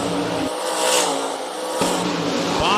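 Race cars roar around a speedway track, a loud continuous engine drone with rising and falling revs as cars pass, heard without voices.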